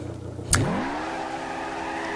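A Ford Mustang Hoonigan, a high-power four-wheel-drive drift car, revs hard after a short sharp burst, its engine note rising and then holding a steady loud drone for the rest of the moment, with no talk.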